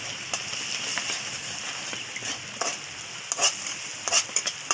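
Spices go into onions and chillies frying in a pan, giving a steady, close sizzle with scattered crackles and stirring scrapes, and no talking.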